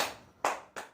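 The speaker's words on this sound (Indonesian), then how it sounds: "Ibu bilang 3, tepuk 3 kali." Students in a classroom clap in quick sharp bursts on a teacher's count, close and crisp, with two more rapid claps following the first within a second.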